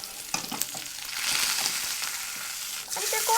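A salmon fillet sizzles in a skillet, starting with a few scraping, clattering knocks as it is turned, then settling into a steady frying hiss.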